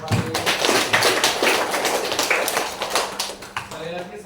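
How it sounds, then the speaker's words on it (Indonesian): A classroom of students applauding together, quick overlapping claps filling the room for a few seconds before tapering off, with a voice faintly underneath. "Tepuk tangan kembali"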